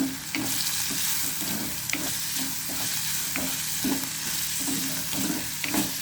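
Chopped tomatoes and curry leaves sizzle and fry steadily in a pan, with repeated rhythmic stirring scrapes throughout and no voices.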